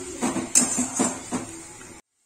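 Chopped onion, garlic and tomato stirred in a pan for an egg curry: about four scraping strokes of a spoon against the pan over two seconds, then silence.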